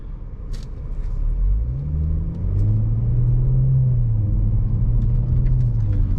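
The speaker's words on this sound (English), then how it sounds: "even though it's in comfort mode, the exhaust gives out a pretty nice sound" A 2023 Audi S5 Sportback with Sport Resonator exhaust, driven in comfort mode on city streets, gives a deep low rumble that climbs in pitch as the car accelerates, then settles into a steady drone.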